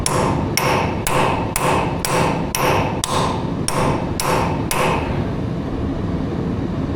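A hammer strikes a chisel during work on an A4T oil cooler and rear axle, giving nine sharp, evenly spaced metallic blows about half a second apart, followed by quiet.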